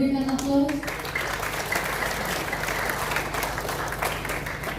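An audience at a church opening service applauds steadily after a brief spoken line from a voice over a microphone. The clapping is dense and sustained and fills the rest of the moment at an even level.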